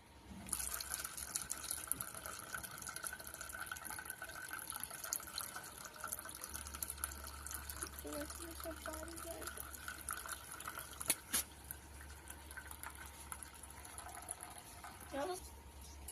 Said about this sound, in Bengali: এবারে দিয়ে দেবো ঠান্ডা জল।